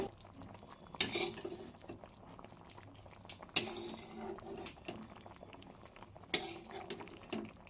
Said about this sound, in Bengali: দিয়ে আরও কিছুক্ষণ নাড়াচাড়া করে নেব